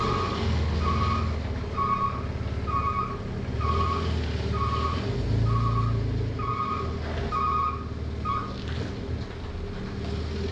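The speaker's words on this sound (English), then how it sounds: "I'm going to go ahead and back the truck away." A plow truck backs away with a steady engine rumble and a regular series of electronic reversing beeps sounding about once per second throughout.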